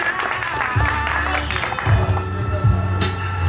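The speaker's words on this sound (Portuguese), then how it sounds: "Uma salva de palmas para a nossa homenageada" Guests at a birthday party clap for the woman being honored. The applause sounds nearby and steady, with bass-heavy background music thumping underneath.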